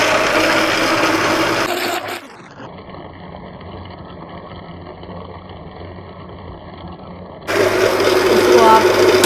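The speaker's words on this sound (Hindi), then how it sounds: "इसको आप अच्छी तरह ग्राइंड कर लें।" Pomegranate and beetroot juice are ground in a kitchen mixer grinder. A loud churning roar cuts out sharply at about two seconds, followed by a quieter spell and then another burst of grinding.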